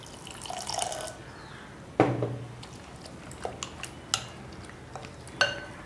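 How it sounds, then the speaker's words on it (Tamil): Water poured into a mixing bowl while making a semolina batter, heard as a short splashing trickle with a few light clinks and drips against the bowl, fairly close and without talk. "கொஞ்சம் தண்ணி சேர்த்துக்கலாம்."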